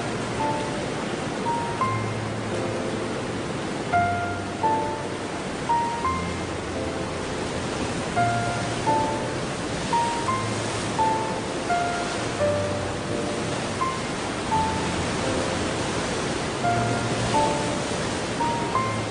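Large and small waterfalls in forest valleys make a steady, broad rush of falling water that fills the whole stretch, with soft melodic notes drifting faintly over it.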